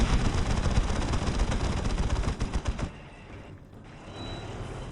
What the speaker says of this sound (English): Vindicator over here, providing supporting fire from the cliffs of Dover